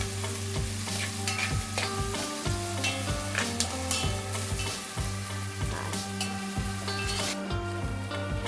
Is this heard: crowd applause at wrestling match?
no